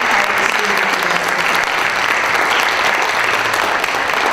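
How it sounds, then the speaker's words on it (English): Loud, sustained applause from a pageant audience clapping for the judges, a dense steady wash of hands filling the whole stretch with no break. "A big round of applause for the judges"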